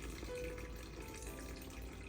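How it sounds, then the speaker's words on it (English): Water, 735 grams, pouring into a bowl already holding 250 grams of active sourdough starter, a faint steady stream running throughout. "Then I added 735 grams of water."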